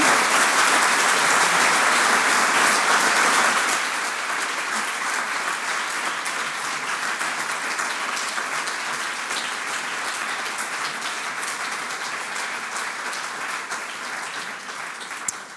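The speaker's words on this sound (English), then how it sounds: "Applause for you." An audience at an economics lecture in Vienna gives sustained applause for the speaker, loud at first and then settling into a steady, slightly softer clapping that continues for about fifteen seconds.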